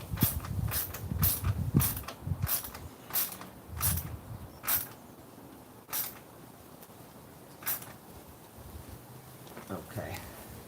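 A wrench tightens a spark plug on a Ford Crown Victoria, giving sparse, sharp metallic clicks and faint creaks at close range, separated by quiet gaps.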